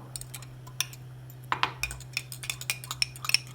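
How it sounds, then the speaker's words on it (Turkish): A fork mashing a chicken bouillon cube clinks and taps against a glass in a quick, uneven series of light metallic strikes over a low steady hum. "Bir tane tavuk bulyon atalım. Çatal yardımıyla ezelim."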